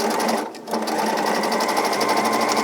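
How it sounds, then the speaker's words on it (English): Sewing machine fitted with a zipper foot stitching a zipper into a spring jacket, a loud close whirring hum with a rapid steady needle rhythm, briefly dipping before running on evenly. "I have a zipper foot on my sewing machine, so I'm coming really close to the edge."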